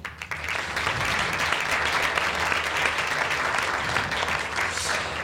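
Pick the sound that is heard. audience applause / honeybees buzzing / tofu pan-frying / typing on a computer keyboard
audience applause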